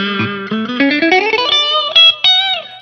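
An electric guitar runs through effects, playing a quick rising run of distorted, bright notes with a synthetic, sitar-like edge, then a few sustained bent tones, loud and close with no talking.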